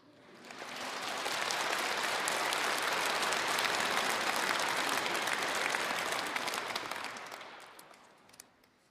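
An audience at a Lenten lecture by a Catholic bishop claims in a dense, steady round of applause that swells up, holds for several seconds and tapers away.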